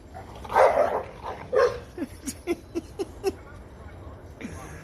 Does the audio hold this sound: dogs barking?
yes